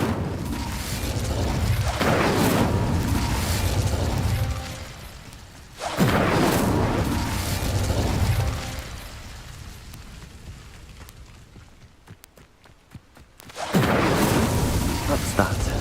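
Incendio fire spell cast in Hogwarts Legacy, three loud whooshing fiery blasts each swelling and fading over a couple of seconds, with quieter rumbling between.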